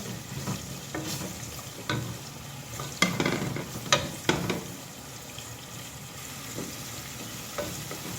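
Chili and cinnamon bark frying in a pan for a Sri Lankan-style spicy chicken curry, a steady close sizzle broken by several sharp scraping stirs of a spoon, with no talk.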